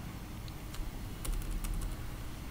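A few light keyboard taps and a press of the enter key while formatting chapter numbering in a document, faint clicks over a steady background hiss with no speech.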